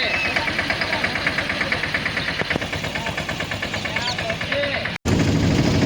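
A tractor engine chugs steadily close by in a village, rumbling with a regular knocking pulse and shaking throughout, while people talk over it; the noise briefly cuts out near the end.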